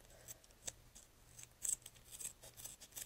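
Scissors snip through duct tape while a basic duct tape bow is trimmed, giving a few short, faint, close cuts with quiet gaps between them and no talking.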